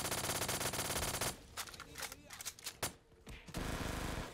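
Gunfire in a Call of Duty–style zombies game on a Candyland map, heard as a few irregular shots and clicks after a dense wash of game music and effects, with a short lull in the middle.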